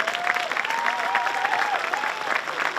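A high school graduation crowd in a gym applauds recognized seniors, a broad continuous roar of clapping with a faint voice weaving beneath it.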